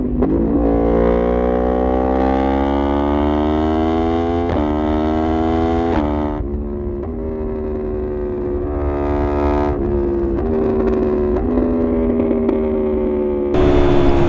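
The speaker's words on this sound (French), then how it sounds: "On va tester de faire un pur sound pour que vous puissiez entendre le bruit de l'échappement." A motorcycle fitted with a new Sparks Fighter exhaust line revs up repeatedly, its engine note climbing and dropping in sustained throttle pulls with a loud, near, rasping exhaust tone.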